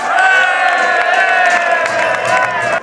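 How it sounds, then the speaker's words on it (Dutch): A large crowd at a carnival event cheers and claps steadily, loud and sustained, with whoops rising over the applause before it drops off abruptly at the end. "een weer applaus voor adjudant Hans Kirsjes."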